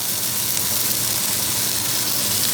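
Steady, close hissing sizzle of garlic and smoked paprika frying in oil in a paella pan, a continuous even crackle with no talking.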